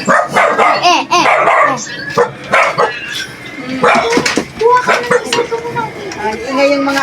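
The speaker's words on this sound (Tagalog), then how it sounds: "Ingay yung mga aso namin" Dogs bark repeatedly in bursts, fairly close, with people talking over and between the barks.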